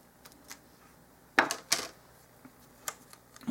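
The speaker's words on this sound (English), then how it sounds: "I'm going to cut a piece about that long" Scissors cutting a short strip of sticky tape while building a miniature dollhouse grand piano: two sharp close snips, then a few lighter clicks and handling noises in a quiet room.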